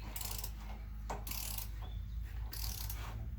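Torque wrench tightening bolts on a front-wheel-drive manual transmission held in a vise, a few close mechanical clicks and ratcheting bursts in a quiet workshop.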